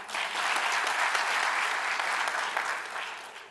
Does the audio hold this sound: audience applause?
yes